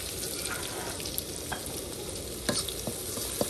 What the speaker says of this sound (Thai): ตั้งกระทะแล้วก็ใส่น้ำมันลงไปนะครับ ก็เอาพริกกับ กระเทียมนะครับ ลงผัดก่อนนะครับ